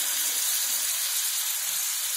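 Water splashed into a pan of soya chunk and potato curry sends up a steady, loud hiss of steam that holds evenly throughout, with no voices over it.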